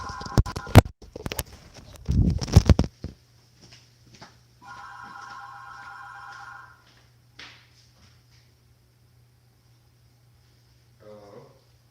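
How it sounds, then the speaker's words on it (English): A telephone rings at home, a short ring at the start, then a longer steady ring after a burst of clattering and chatter. Voices are heard early on. "Phone's ringing."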